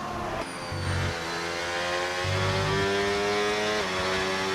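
Race car engine from a racing video game held at high revs through a flying qualifying lap at the Netherlands circuit, a steady loud whine with rising pitch sweeps as it pulls through gears, no talk.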